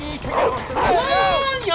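A dog barks, yips and whimpers in Call of Duty WW2, a few sharp close barks blending into a whining cry amid game sound and a voice talking.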